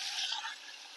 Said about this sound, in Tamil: இந்த டைம்ல புளி ஊத்திக்கங்க.